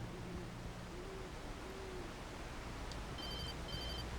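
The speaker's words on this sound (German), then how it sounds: "Telefon, schon wieder." A faint electronic telephone ring in the horror video game Alan Wake chirps in two short repeated bursts far back, nearly buried under a steady loud hiss and low rumble, with low owl-like hoots drifting in earlier.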